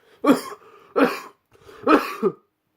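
Three separate coughs, close and fairly loud, each a harsh burst followed by a short rough tail, with brief pauses between them.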